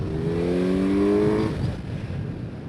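A 2026 Kawasaki Z900 motorcycle engine revs up, its rising harmonic whine climbing steadily for over a second before falling away into a rougher, lower rumble, close and loud.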